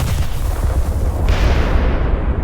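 A 9-inch cannon fires in the Minecraft Movecraft game, giving a loud, dense burst of low booming rumble that holds steady across the whole moment with no talking.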